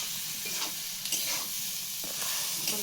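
Ginger paste, turmeric and chilli sizzle steadily in a hot pan as a village fish curry base is cooked, with soft scraping stir strokes breaking through the constant frying hiss.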